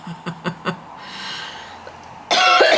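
A sick person lets out three quick dry coughs close to the mic, then a breathy exhale. A brief louder rustle follows at the end.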